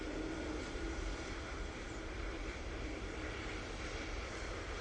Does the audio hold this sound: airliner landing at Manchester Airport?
yes